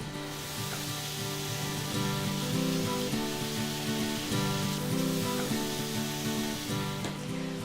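Scallions dropped into a pot of half-cooked shrimp set off a steady, close sizzle that holds dense and even throughout, with a faint recurring rhythmic pattern underneath and no talking.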